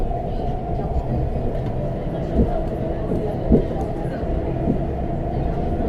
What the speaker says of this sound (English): Or you can just listen to them scream as they come into the station.